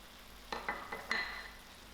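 Spinach with salt and tomatoes stirred in a pan: a few soft scraping strokes and light clinks in quick succession over a quiet, low sizzle.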